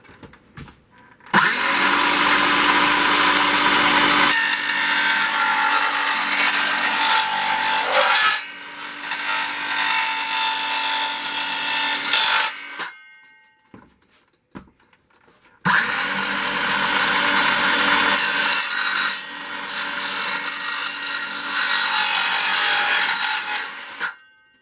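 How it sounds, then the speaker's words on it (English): A precision bandsaw cuts small cross members for a 1/700 Trumpeter Dreadnought ship model, giving two long, loud, steady runs of rasping whine separated by a brief quiet pause. "Precision bandsaw."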